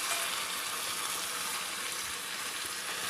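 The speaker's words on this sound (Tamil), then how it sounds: "இந்த மட்டனை போட்டு நல்லா கிளறி விடுங்க" Mutton pieces frying in a pan with masala powders for Madurai mutton chukka, giving a soft, steady sizzle that holds evenly throughout with no voices.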